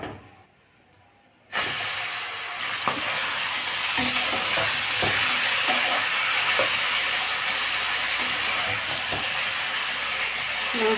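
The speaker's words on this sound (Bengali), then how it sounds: "মাংসটাকে আগে ভেজে নিব।" Meat frying in hot oil in a wok, a steady loud broadband sizzle that starts abruptly after a quiet second and continues with occasional stirring scrapes and pops.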